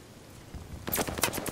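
After a quiet stretch, a quick burst of close automatic gunfire breaks out at a hard point in a shooter game, several sharp cracks in fast succession.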